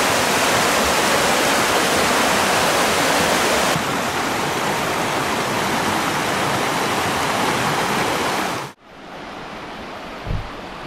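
Monkey Creek, a clear mountain stream at Milford Sound, New Zealand, rushes in a loud, steady close-up wash that abruptly drops to a quieter, more distant flow near the end, with one soft low thump.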